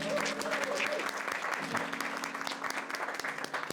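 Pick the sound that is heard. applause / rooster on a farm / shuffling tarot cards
applause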